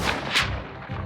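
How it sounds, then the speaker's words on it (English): RPG fired toward a watchtower, a single short blast with a sharp burst near its middle, loud and close, no voices. "they both hear the unmistakable fire of an RPG coming towards the watchtower"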